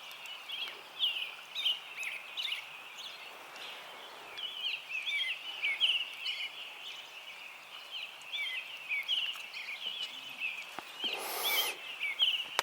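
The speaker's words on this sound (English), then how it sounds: "Can't believe that grouse is up again already." A grouse calls in the early morning at a backcountry lake camp, a string of faint, high chirping notes repeated through quiet surroundings, with a brief rustle near the end.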